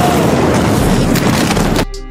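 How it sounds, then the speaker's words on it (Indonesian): An oven explodes indoors in a loud, sustained, roaring blast that fills the space for nearly two seconds and then cuts off abruptly into quiet. "oven meledak"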